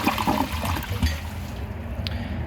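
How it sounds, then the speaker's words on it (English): An Eago toilet flushes with a rushing gurgle that fades into a trickle of water refilling, close by. "Let's try a second flush."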